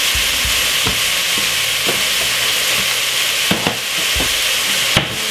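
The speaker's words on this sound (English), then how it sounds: "Give it a stir." King prawns fry in a pan with a steady, loud sizzle, seasoned with pepper and fish seasoning, while a utensil stirs them in several scraping strokes and scattered clinks against the pan.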